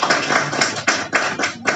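Audience clapping to welcome an agricultural university vice-chancellor, a dense, close burst of many hands with a few stronger surges, filling the room without talk.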